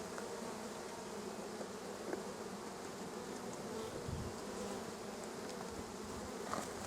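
Steady dense buzzing of many honeybees around an open hive, close and continuous with no pauses, with a few individual bees flying near.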